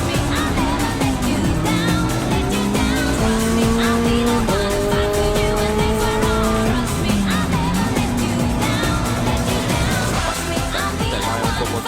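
A BMW touring race car screams around a track during a touring car championship round, its engine note rising and falling through gear changes in a steady, loud, close drone, with tire noise underneath.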